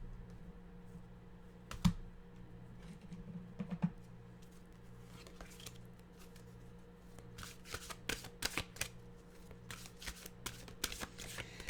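Mantra cards are handled at a table: quiet riffling and soft card slaps, with a few sharp taps early and a denser run of crisp shuffling snaps toward the end, close and faint over a low steady hum.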